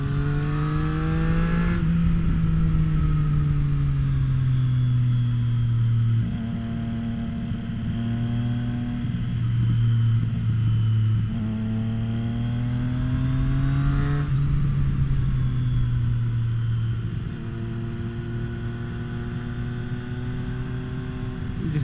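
A 2024 Triumph Street Triple RS motorcycle engine hums steadily while riding, with pitch rising and falling through gear changes and throttle shifts, loud and close throughout with no talk.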